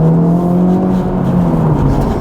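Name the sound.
Acura Integra Type S car cornering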